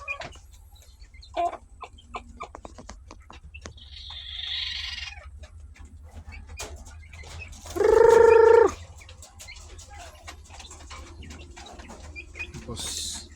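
Chickens cluck and squawk intermittently in a quiet pen, with one loud, sustained call in the middle and scattered softer fowl noises around it.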